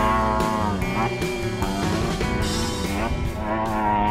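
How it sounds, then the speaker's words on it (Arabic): A Peugeot DKR 3008 rally car engine roars loudly while driving over sand dunes, a harsh, steady drone with shifting pitch as the engine revs up and down, heard close from inside. "صوت السيارة كان كتير عالي فالتسجيل طلع عاطل جدا"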